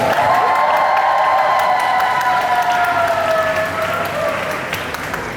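A concert audience at a rock concert of the musical Rent in Seoul's COEX applauds loudly with cheers and high shouts, the clapping steady and then slowly fading toward the end.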